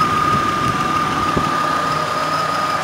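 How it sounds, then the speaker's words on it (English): Car engine idling with a fuel injector ticking, a steady close mechanical hum with a faint light rapid ticking running through it, no talk. "The only noise you wanna hear from this engine is the injector, the fuel injector is ticking."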